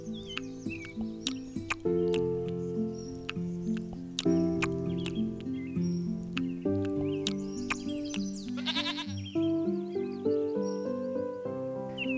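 A young goat bleats in an animated children's story, a short wavering cry rising over a continuous plucked melody and light rhythmic music.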